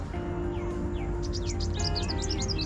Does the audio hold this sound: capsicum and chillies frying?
no